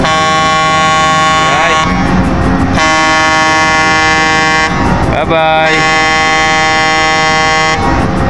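A ship's loud, deep horn blasts in three long sustained honks separated by short gaps, with a person speaking briefly between them.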